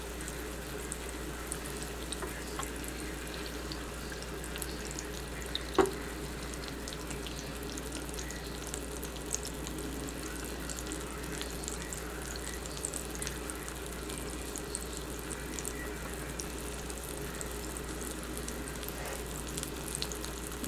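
Parmesan-crusted swai fish fillets frying in a pan, a faint, steady low sizzle with an occasional soft tick, heard alone with no talking.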